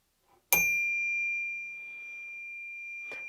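A Crane hammer-strike bicycle bell is struck once after a faint tap, giving a bright, loud ding with a warm, long sustaining ring that slowly fades; a brief rustle follows near the end.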